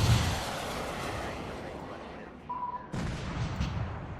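A Tomahawk missile launches in a naval combat video game, a sustained rushing roar that fades, then a second abrupt burst of noise near the end.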